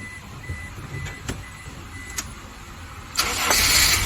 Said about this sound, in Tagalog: Now start the engine and then check it again.